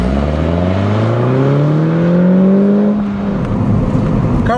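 A 2013 Mini Cooper S Roadster's turbocharged four-cylinder engine pulls hard through a gear, its rising whine climbing for about three seconds before easing off, loud and close.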